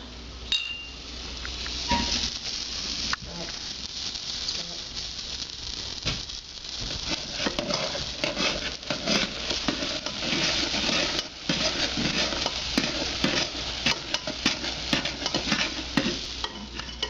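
Hot peanut brittle candy is stirred after butter and baking soda go in, giving a steady sizzling, scraping stir with occasional clinks of a utensil against the pot, close and continuous with no talk.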